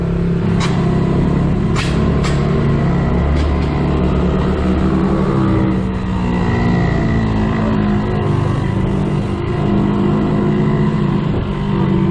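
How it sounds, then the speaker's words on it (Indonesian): A two-stroke engine idles steadily and loudly throughout, a constant throbbing drone with a few sharp clicks near the start and no voices. "nyala Nyala. nyala mesin"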